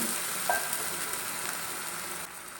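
Steady bubbling hiss of a pot of boiling water as semolina is stirred in, a spoon scraping through it, close and continuous, no voices.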